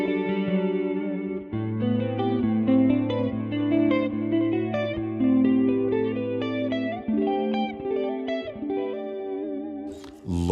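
An electric guitar played through a Neural DSP Quad Cortex plays sustained chords and melodic notes, washed with chorus shimmer, reverb and echoing delay, steady and full throughout with no voices.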